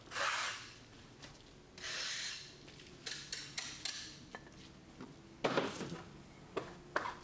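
A tool scratches through a layered plaster finish in an aged-stone style: bursts of dry rasping and scraping strokes, close and irregular, with short ticking taps between them and no talk.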